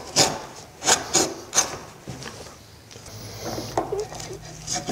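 A router plane cuts a stopped dado in wood, giving several short, rhythmic scraping strokes close up, then quieter rubbing and shuffling sounds.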